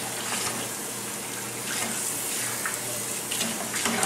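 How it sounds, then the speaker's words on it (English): Water runs steadily from a tap over a hot pan being cleaned in a home kitchen, a constant rushing splash with slight swells in level and no voices. "always clean your pans while they're still scalding hot"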